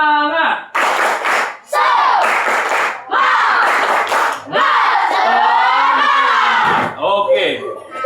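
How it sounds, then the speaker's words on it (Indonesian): Girls in a classroom performing a clapping chant, sharp rhythmic claps between bursts of loud unison shouting and a drawn-out group cry, close and lively. "Perempuan, tepuk semangat."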